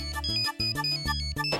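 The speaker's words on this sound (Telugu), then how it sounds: "సురేష్ నాకు ఫోన్ చేస్తున్నాడేంటి?" A mobile phone ringtone plays a bright, repeating melodic chime in short rhythmic phrases, clear and close, lasting under two seconds with no talking.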